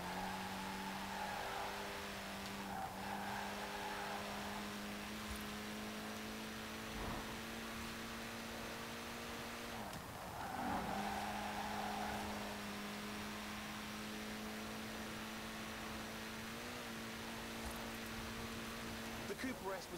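A Mini Cooper S engine in the driving game Forza Horizon 4, a steady droning hum held at an even pitch with slight rises, running under continuous spoken narration.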